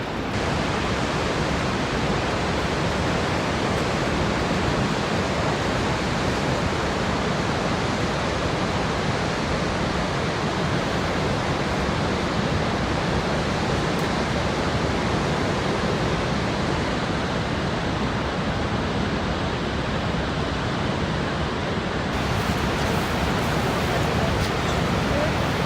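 Niagara Falls, seen from the Canadian side, roars as a dense, unbroken wall of rushing water close by, loud and constant throughout.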